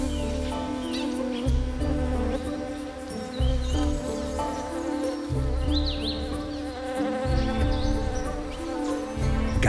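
Male orchid bees buzz steadily around flowers on Colombia's wild coast, a dense, continuous drone with wingbeat swells rising and falling as insects pass close, alongside faint chirps.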